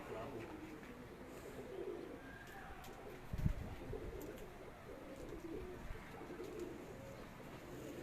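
Soft, low pigeon cooing murmurs steadily through the background on a Karachi rooftop, with a brief thump partway through; faint rustling and ambient noise throughout.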